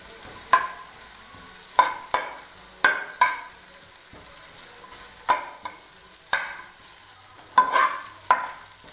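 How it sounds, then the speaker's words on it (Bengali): Maggi noodles frying in a pan, with a steady low sizzle broken by about ten sharp scrapes and knocks of a stirring utensil at irregular intervals, close and without speech. "এটাকে ভেজে নেবো কিছুক্ষণের জন্য।"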